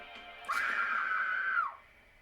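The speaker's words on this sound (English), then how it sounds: "screamed from her room" A girl's scream in a horror animation, one long sustained high-pitched cry lasting over a second, loud and close, then cutting off sharply with nothing after it.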